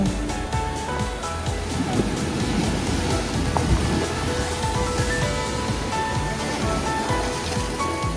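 Sea waves on Tajpur beach give a steady, dense roar of surf that fills the whole stretch at an even loudness, with no clear breaks between waves.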